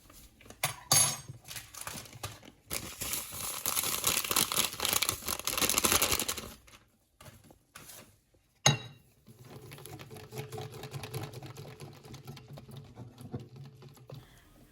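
Busy clattering and scraping of a utensil stirring pancake batter in a bowl, in loud bursts broken by brief pauses, with a quieter, steadier stirring stretch at the end.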